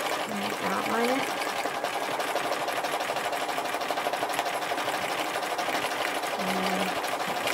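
Sewing machine stitching a thread-scribbling embroidery design, a steady close whirring drone of rapid stitches running throughout with brief pauses, with a voice talking over it.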